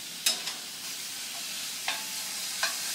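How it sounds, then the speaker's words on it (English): Chopped bacon sizzles in a pan on a stove with a soft, even frying hiss, broken by a few faint clicks of a utensil. "I'm going to throw the bacon in."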